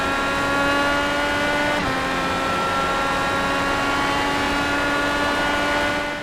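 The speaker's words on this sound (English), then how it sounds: "that's when we will go full throttle and prepare to start our lap" An IndyCar engine at full throttle on Indianapolis Motor Speedway in a racing video game, a loud sustained high-pitched whine that dips briefly as it shifts gear, then holds steady.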